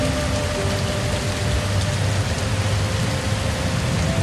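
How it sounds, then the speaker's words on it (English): Steady, dense rain pours through a Costa Rican rainforest at night, a continuous even hiss of drops on leaves and surfaces with a low rumbling undertone and no pauses. "This is the rain that wants nothing from you but the pleasure of being heard."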